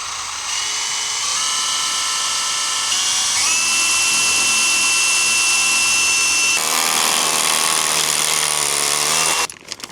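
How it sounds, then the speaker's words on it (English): A power drill with a 12 mm bit bores anchor bolt holes into a concrete slab near its edge, producing a loud, sustained high whine that shifts pitch as it bites, then cuts off abruptly. "I want to make sure I kind of drill as close to the edge as possible, because this will really blow out the concrete"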